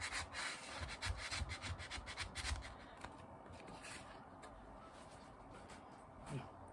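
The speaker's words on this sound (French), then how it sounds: "Vous pouvez prendre une petite lame de cutter, enfin quelque chose pour gratter la cire." A small cutter blade scrapes wax off a surface in short, rough, repeated strokes up close, loudest in the first half and then quieter.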